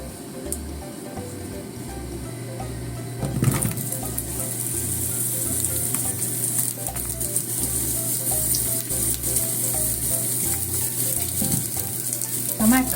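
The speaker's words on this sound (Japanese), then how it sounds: "そして炒めましょう。 またオリーブオイルを入れてですね" Zucchini stir-frying in olive oil in a pan: a steady, loud sizzle with scraping and tossing as the slices are stirred, plus a rhythmic low thumping underneath, continuous throughout with no talking.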